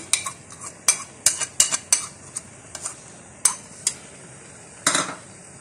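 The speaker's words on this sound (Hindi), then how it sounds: "और अच्छी तरह से इसको मिक्स कर लेंगे।" Metal spoon clinks and scrapes against a pan while chicken balls and macaroni are stirred with chili garlic sauce, a dozen or so sharp, irregular taps spaced over several seconds, close and clear with no talking.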